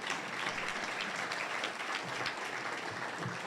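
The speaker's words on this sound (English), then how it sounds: "Go ahead and clap for that, Lyndon." Dense, steady clapping from an audience at a school district address, filling the whole stretch at an even level with no talk.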